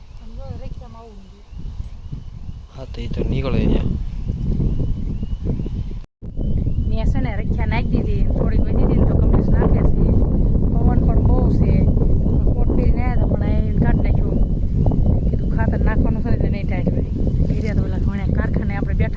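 Strong wind buffets the microphone in heavy, continuous gusts, with people talking faintly underneath and a brief dropout partway through.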